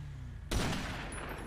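Gunfire erupts in a GTA roleplay game, a sudden loud burst after a quiet start that trails into a sustained rattle of shots.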